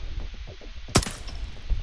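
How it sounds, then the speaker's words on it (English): A single sharp video-game gunshot cracks out loudly midway over a low, rumbling background. "Crouch. Shoot firearm."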